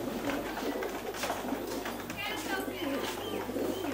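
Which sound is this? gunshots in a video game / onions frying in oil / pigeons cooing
pigeons cooing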